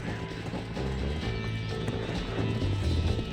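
Rapid hoofbeats of a galloping horse in the video game Red Dead Redemption pound under a low musical score and game ambience, steady and continuous.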